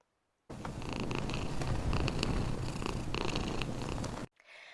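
A cat purrs close up in one steady, rumbling stretch lasting a few seconds, then stops abruptly.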